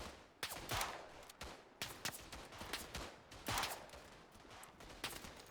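Smith & Wesson No. 3 revolver fires in the game Tannenberg, a handful of sharp spaced shots over distant crackling battle gunfire, fairly quiet overall.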